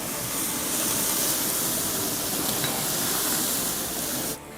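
Butter flares up on a grill under lobster halves, giving a loud, steady rushing hiss and sizzle that holds for about four seconds and then drops off sharply.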